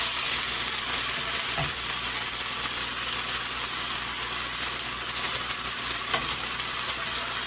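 Ground beef frying in its own rendered fat with no added oil, for taco-seasoned burgers, giving a steady close crackling sizzle throughout with a couple of faint stirring scrapes.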